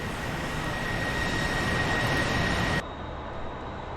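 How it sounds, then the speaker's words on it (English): Jet aircraft engine taxiing in the DCS flight simulator game, a steady loud broadband roar with a high whine that cuts off sharply near the end, leaving a quieter hum. "Ignore that jet in front of me."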